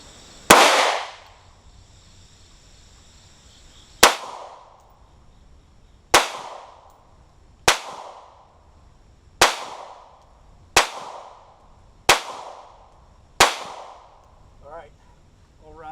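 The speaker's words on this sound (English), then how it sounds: "Rounds down range with the Glock. We're going to transition right into the Sig." Eight sharp pistol shots from a Sig P365 ring out at an outdoor range, one then a pause, followed by seven evenly spaced reports, each loud and close with a short echoing tail.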